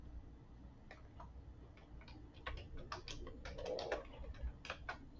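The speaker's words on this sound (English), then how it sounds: "I'm going to type again" Keys on a computer keyboard tapped in short, irregular bursts of clicks, fairly close and moderately quiet over a faint steady background hum, with no one talking.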